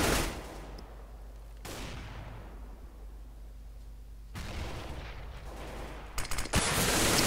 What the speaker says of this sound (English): getting a headshot onto Nene